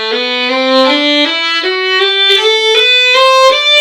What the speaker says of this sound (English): So number 2 of the most important strokes is the slurs